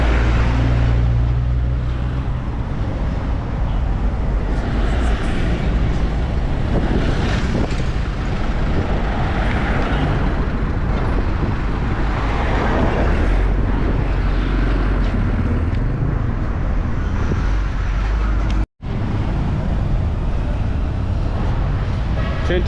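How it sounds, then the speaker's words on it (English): Busy Nairobi uptown street traffic during the working day, with vehicles and motorbikes including an electric bike, a steady broadband roar of passing engines and wind noise running throughout. "Check it out, very busy, vehicles moving, motorbike, that is electric bike."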